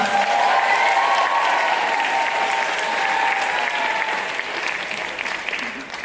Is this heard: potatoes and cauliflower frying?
no